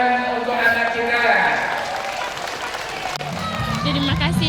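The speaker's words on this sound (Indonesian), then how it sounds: "Tepuk tangan untuk anak kita." A crowd at a Muhammadiyah and Aisyiyah congress event claps for a child, and the applause blends with strong speech and music-like tones, fading in and out under a voice.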